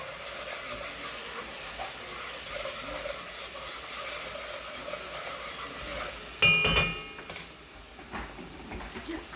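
Ham sizzles in oil in a pan for Spanish rice, a soft steady hiss and crackle close by, broken near the end by a brief louder clatter before it settles quieter.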